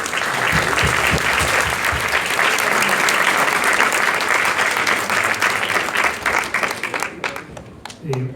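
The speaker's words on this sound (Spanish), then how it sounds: "Un aplauso para Renato, por favor." An audience at a Spanish-language panel event applauds, a loud, dense and sustained burst of clapping that runs evenly before breaking up into scattered claps near the end.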